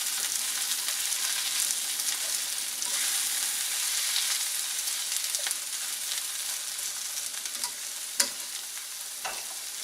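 Sliced peppers fry with garlic in a pan, giving a steady, close sizzle with occasional scrapes and a sharp utensil knock as they are stirred, with no voices.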